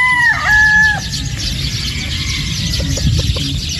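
Near and clear, a sweater gamefowl rooster on a game farm lets out a rising two-part call, then softer clucks and quick clicks over a constant low background hiss.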